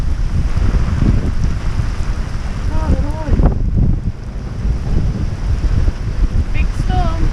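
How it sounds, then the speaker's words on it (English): Stormy wind buffets a widebeam canal boat in a loud, continuous roar with heavy microphone rumble, while a voice speaks briefly partway through. "This is pretty stormy."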